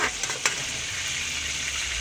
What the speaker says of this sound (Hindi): इसमें मैं अब प्याज डाल रही हूँ।